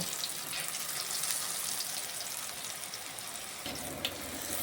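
Eggplant pieces frying in hot oil, a continuous bright sizzle and crackle that holds steady throughout with no talking.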